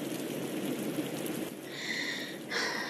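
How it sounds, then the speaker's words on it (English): Steady rain falls in a Bloxburg game animation, a dense, even hiss of drops that runs throughout with no talk over it. "Great, it's raining."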